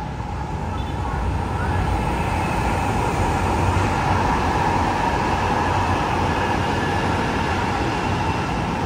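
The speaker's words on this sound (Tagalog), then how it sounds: "Kaya mabilis yung takbo ng train." An MRT Line 3 train along EDSA near Ortigas, a steady loud rumble and rush of the passing train throughout, with faint traffic noise beneath.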